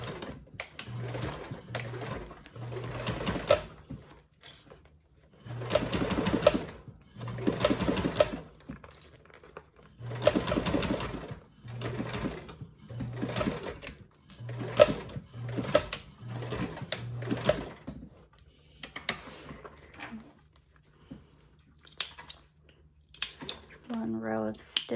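Sewing machine stitching two rows at a 3/8 inch seam on a bag, with repeated short bursts of running stitches separated by pauses and soft handling noises.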